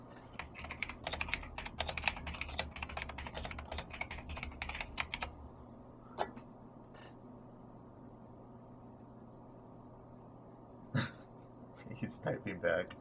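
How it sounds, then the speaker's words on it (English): Rapid keyboard typing on a computer, a busy run of close clicks for about five seconds, then a few isolated keystrokes over faint background hum and quiet breathing. "He's going to type on the notepad."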